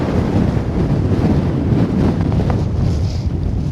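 Wind buffets the microphone on the summit of Hen Comb, a Lake District fell, a loud continuous roar of gusts rising and falling without pause, with no voices.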